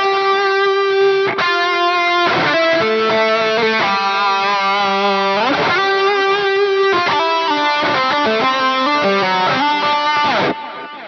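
Electric guitar lead through a Fractal Tone rig, dark and mid-forward with distortion, playing a sustained melodic line of held and sliding notes, loud and alone throughout.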